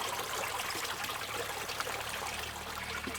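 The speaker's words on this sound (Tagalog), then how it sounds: "Yan, running water siya. Maliit na sapa." A small shallow creek of running water trickling steadily, a soft continuous babble heard close and alone.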